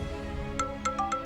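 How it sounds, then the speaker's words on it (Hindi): A phone ringtone plays in a domestic drama scene: a few short, bright electronic tones in a quick run, moderately quiet over a low background hum, no talking. "फोन बज रहा है।"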